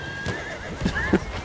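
Horse in Battlefield 1 giving a short neigh with a few hoof clops, close and clear against game background noise.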